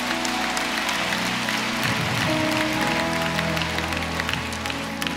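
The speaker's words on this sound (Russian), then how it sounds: "Давайте Богу дадим хорошие аплодисменты" Steady congregational applause at a church crusade service, blended with ongoing organ-like music and low chords throughout.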